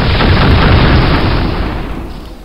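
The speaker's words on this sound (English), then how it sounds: "It's a little explosion." A small explosion in the video game HeXen II bursts as a loud, dense rush of noise that holds steady for a couple of seconds, then gradually fades, with no talk over it.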